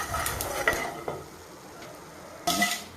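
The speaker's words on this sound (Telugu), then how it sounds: "విత్తనాలన్నీ టప్ టప్ అంటున్నాయండి మంచిగా వేగుతున్నట్టు అర్థం చేస్తున్నానండి" Cumin and coriander seeds dry roasting in a pan, with scattered light crackles and a few stirring scrapes, louder bursts near the start and end against a quiet background.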